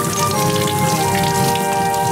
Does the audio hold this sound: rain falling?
yes